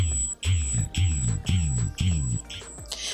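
A facial massager buzzes in repeated short pulses, about six bursts roughly half a second apart, each with a low rumbling hum and a higher whine, close and steady.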